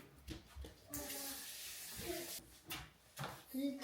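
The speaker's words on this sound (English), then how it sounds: "I'm going to wash my hands" Hands are washed under a running tap, a steady rush of water lasting a couple of seconds between brief splashes and clatter, with a voice speaking over parts of it.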